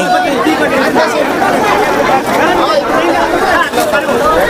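A large crowd fills a village mahayajna dining pavilion, a dense, steady hubbub of many overlapping voices chattering nearby without pause.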